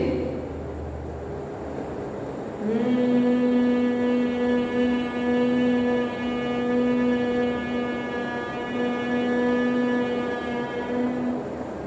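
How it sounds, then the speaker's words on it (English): Humming exhalation during pranayama breathing practice: after a quiet start, a steady, sustained hum rises at about the three-second mark and holds evenly for the remaining nine seconds, close and fairly loud, with no talk. "take a deep breath and then exhale, making a humming sound"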